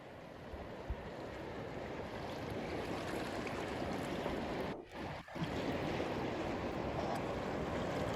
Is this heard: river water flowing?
yes